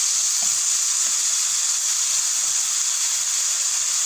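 Beetroot halwa sizzling steadily in a pan as it is stirred, a continuous bright hiss of frying with faint scraping from the stirring, close and even throughout with no talking.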